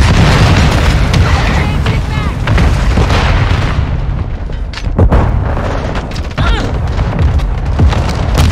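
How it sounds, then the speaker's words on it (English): Mortar strike explosions in Call of Duty Modern Warfare 2 (2022) roll through a dense, continuous battle din, with heavy booms landing around the middle and brief voices cutting in now and then. "Friendly mortar strike on the way."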